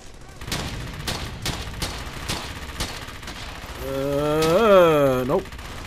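Gunfire from the video game Brothers In Arms: Hell's Highway, with a rapid run of loud, evenly spaced shots followed by a rising mechanical whine near the end.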